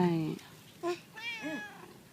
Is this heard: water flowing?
no